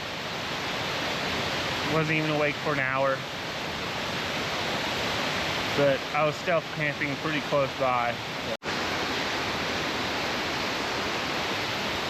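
A steady, loud roar of a waterfall at a campsite fills the whole stretch, with someone talking briefly over it in two short bursts.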